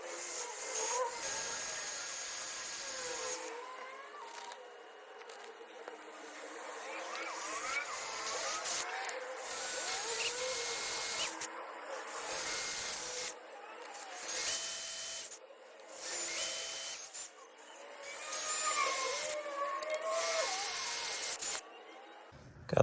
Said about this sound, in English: and then drill each of those holes out.